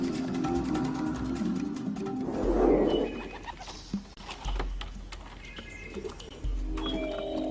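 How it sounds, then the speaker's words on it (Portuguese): Pigeons let out of a transport box in an open field without trees: a burst of fluttering wings with scattered cooing and bird calls, fairly close, and no talking. "Eu abro a caixa e eu solto os pombos."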